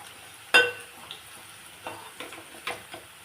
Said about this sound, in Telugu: కొంచెం పిండితోనే పకోడీ వేసుకుంటున్నాను